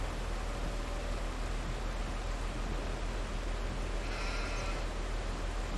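Sheep bleating on the Elm Creek farm in Farming Simulator 22, a faint brief bleat partly buried under a loud, constant hiss of broadband noise.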